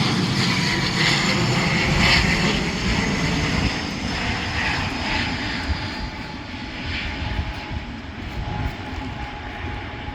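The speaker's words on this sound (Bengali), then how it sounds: "দূর থেকে প্লেন যাচ্ছে।" A distant airplane passes overhead by a Malaysian seashore, a steady broad rumbling drone that stays strong for the first few seconds and then eases gradually, with no talking.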